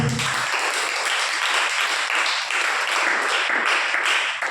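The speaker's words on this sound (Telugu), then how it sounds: "చప్పట్లు కొట్టండి గట్టిగా" Audience at a Telugu church sermon clapping loudly, a dense, continuous wash of many hands that holds steady for several seconds without talk.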